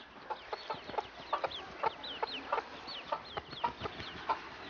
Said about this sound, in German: Im Garten des Schlosses entdeckt sie eine Henne mit ihrem Nachwuchs.